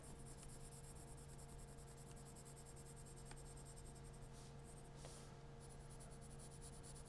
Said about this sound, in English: use the side of your pencil and shade really fast